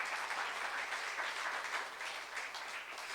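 Congregation applauding at a youth-group church sermon, a steady, even wash of many hands clapping at moderate distance, sustained throughout without a break.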